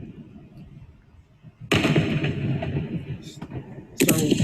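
Fireworks burst in a loud crackling explosion, with a brief pop shortly after and a second crackling burst near the end, all following a quiet stretch of low background hum.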